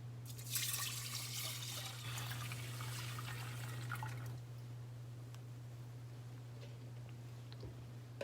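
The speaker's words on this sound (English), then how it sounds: "As you turn the heat to high, add your rice and your raisin mix. Add your liquid mix." Liquid pours into a pot of rice and raisins for kheer, a splashing trickle loudest for the first few seconds before fading to a quiet simmer over a steady hum.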